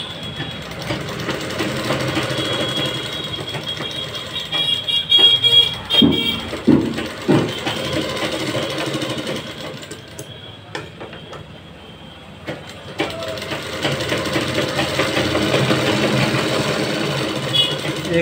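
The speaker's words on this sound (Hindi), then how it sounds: "तो हम सिलाई चला लेंगे।" A sewing machine stitches the crotch piece of a salwar with a steady whirring motor drone, briefly easing off and then running again, while a voice talks over parts of it.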